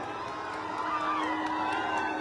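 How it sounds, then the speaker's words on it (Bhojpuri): A crowd at a live Bhojpuri stage show cheers and whoops in a steady, distant roar, with a few faint voices mixed in and no clear applause. "तालियां जोरदार बजनी चाहिए"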